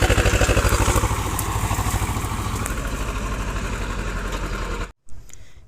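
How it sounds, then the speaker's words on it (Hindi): A tractor's diesel engine chugs steadily and loudly nearby as tractors leave a farm field after levelling, a rhythmic low throb that cuts off abruptly near the end. "खेत में पूरी तरीके से पाटा लग चुका है और ट्रैक्टर वाले भी जा रहे हैं।"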